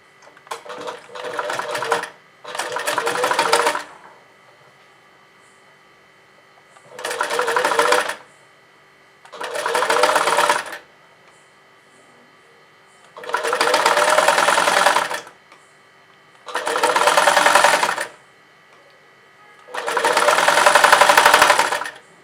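Electric sewing machine run from a motor foot pedal, stitching in seven loud, close bursts of rapid needle chatter, each lasting one to two seconds, separated by near-silent pauses.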